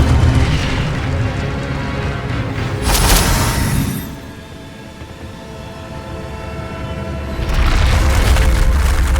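An Incendio fire spell bursts in Hogwarts Legacy with a sharp, bright whoosh, followed by a heavy rumbling roar that fades and then swells again.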